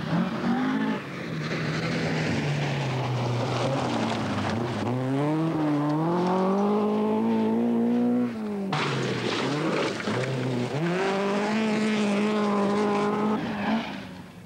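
A Vauxhall rally car on a 1982 RAC Lombard Rally stage revs hard up through the gears, its engine loud and close, with a sudden cut midway before it climbs again.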